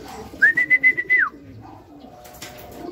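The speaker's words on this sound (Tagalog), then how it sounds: "First training nung kalapati natin guys to." A single pigeon call with a sustained whistled tone during racing pigeon training, followed by soft rustling and a faint flutter near the end.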